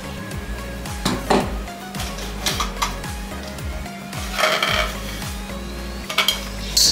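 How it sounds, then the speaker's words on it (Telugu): Curry leaves, green chilies and wheat flour are worked together in a bowl for crispy chips. Repeated scraping and rustling strokes come in an uneven rhythm with occasional clinks against the bowl, close and moderately loud. "వీటన్నిటి బాగా ఫస్ట్ మిక్స్ చేసేసుకోవాలి."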